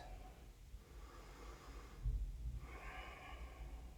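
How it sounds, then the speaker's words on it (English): A slow, audible exhale through the nose during a yoga session, a soft breathy rush swelling midway and then fading, close and quiet, without talking. "And exhale, relax."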